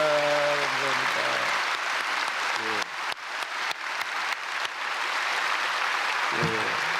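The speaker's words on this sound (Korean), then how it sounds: "박수하겠습니다." Church congregation applause during a Korean early-morning prayer service, a sustained crowd of clapping with a few sharp isolated claps near the middle, while a voice speaks briefly at the start and end.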